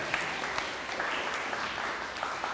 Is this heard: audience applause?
yes